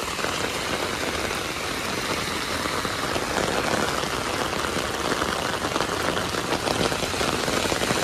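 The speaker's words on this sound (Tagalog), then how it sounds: "Ang lakas ng ulan, oh, basang-basa na kami ni Minnie." A downpour of heavy rain drums and hisses continuously at close range, an unbroken wash of sound lasting the full eight seconds with nobody speaking.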